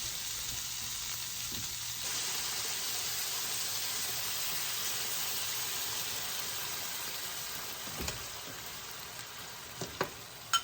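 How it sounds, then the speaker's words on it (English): Chicken breast browning in a hot pan gives off a steady, dense sizzle that holds at an even level throughout, with a few light clicks of stirring near the end. "Brown it for just a minute more."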